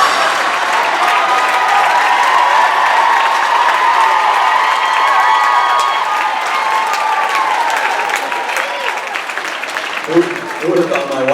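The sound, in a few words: audience applause after a joke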